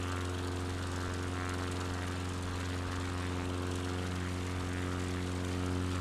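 Airplane engine in a flight simulator game, a continuous loud propeller drone holding an even low hum for several seconds, with no talk over it.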